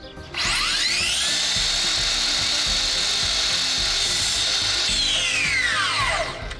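A carpenter's power tool cuts a small return into a piece of wood trim: a loud, steady high whine that spins up at the start, holds for about six seconds, then winds down. No one speaks.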